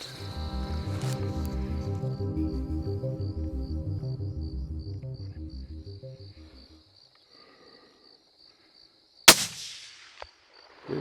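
During a hog hunt on the California coast, a rhythmic pulsing buzz fades into near quiet, then a single sharp, loud rifle shot cracks out late and echoes off, followed by faint small knocks.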